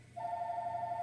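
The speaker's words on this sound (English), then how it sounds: "excuse my phone, you guys, it was just so annoying" A phone ringing: a faint, steady electronic ring tone starts after a brief pause and holds for under a second over low background hum.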